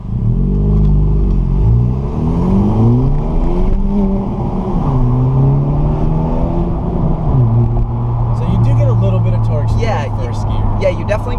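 A 2018 Honda Civic Si pulls hard from a stoplight with the windows down, its engine note climbing loud and steady through first gear and shifting, heard from inside the cabin.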